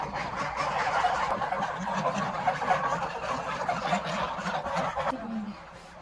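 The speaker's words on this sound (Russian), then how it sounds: "54 гуся есть." A flock of geese on a Tatar village farm cackles and honks in a busy, overlapping chorus that carries on steadily and then thins out near the end, moderately loud and with no talking.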